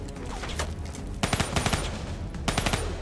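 Automatic weapon fire in the video game Call of Duty Black Ops 3, two loud rapid bursts of gunshots over a constant rumbling game soundscape, with no talking.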